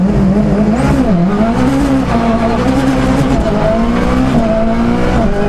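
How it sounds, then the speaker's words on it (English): A Ford Fiesta WRC rally car on gravel tyres over wet tarmac, its engine loud and close as it revs up through the gears, the pitch rising and dipping with shifts and braking, with occasional tyre noise and no talking. "Up to 4th gear, just starting to brake for this first hairpin"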